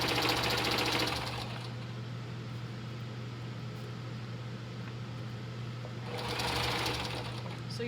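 A sewing machine stitches a petticoat for a unicorn dress, running as a loud, steady mechanical whir with a constant motor hum, slightly louder at the start and end, close and with no talk.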